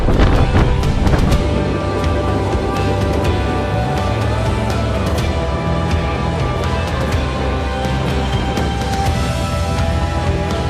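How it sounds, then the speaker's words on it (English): Strong coastal wind roars and buffets steadily against the microphone at Land's End, the northern end of the International Appalachian Trail. Scattered sharp gusts and knocks break through the constant rush. "It's really windy."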